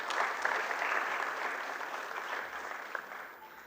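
An audience in a hall applauds, a dense burst of many hands clapping together that starts strong and gradually thins out toward the end, with no speech over it.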